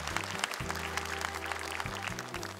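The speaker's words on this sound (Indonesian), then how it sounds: "Boleh tepuk tangan untuk mereka." Audience applause for child Quran reciters on a televised hijaiyah-letter challenge show, a soft, even patter of many hands clapping beneath sustained background music throughout.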